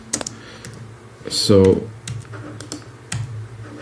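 Computer keyboard keys clicking as musical typing in a music production program, several sharp taps spread across the moment with a short spoken word and a brief tonal sound in the middle.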